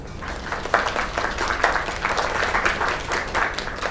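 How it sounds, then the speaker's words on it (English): Crowd applause from an audience in the video game Lake, steady dense clapping with a few louder swells throughout, no talking over it. "Another round of applause."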